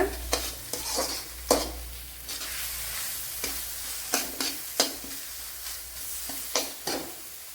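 Onion masala for an Indian egg masala is sautéed in a pan until the raw smell is gone. A steady frying sizzle runs throughout, with repeated sharp stirring scrapes and knocks of a spatula at an uneven rhythm, and no talking.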